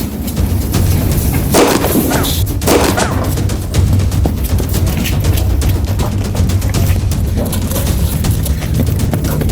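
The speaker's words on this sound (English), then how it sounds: "I heard gunshots when I was inside." A rapid burst of gunfire crackles in a TV drama scene, dense and loud over a heavy, busy background, with several sharp shots clustered early and then continuing noise.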